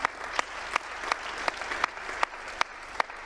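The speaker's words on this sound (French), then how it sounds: "On peut les applaudir une nouvelle fois." Applause from a seated audience at an industry award ceremony, a fairly faint, even patter of clapping with a few sharper individual claps landing in a rough rhythm.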